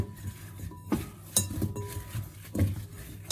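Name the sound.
hands mixing potato wedges with herb and spice mixture in bowl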